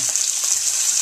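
Onions, garlic and andouille sausage fry in a pan with a dense, steady sizzle and crackle, close and continuous, with no one talking.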